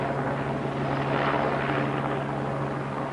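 A police helicopter searches for a trespasser on a railway in a valley, its steady rotor and engine drone loud and continuous throughout.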